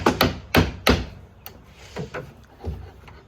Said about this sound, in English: just give it a bit of a tap